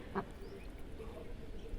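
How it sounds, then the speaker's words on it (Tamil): Ducks on a temple pond give one short, sharp quack near the start, followed by quiet open-air ambience. "இந்த குளத்தில் பார்த்தீங்கன்னா வாத்துங்க அற்புதமாக இருக்குது வாத்து கத்திகிட்டு இருக்குது"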